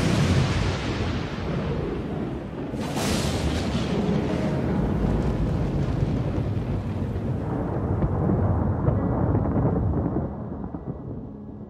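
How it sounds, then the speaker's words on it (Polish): Thunder from lightning strikes in the mountains rolls loudly, a sharp crack near the start giving way to a long, deep rumble that slowly fades. "Natomiast pioruny uderzają wszędzie, również poniżej, w miejscach, gdzie są cieki wodne"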